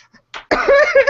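A single short cough from a podcast host just before starting an intro, followed by a rough, voiced throaty sound, close and fairly loud.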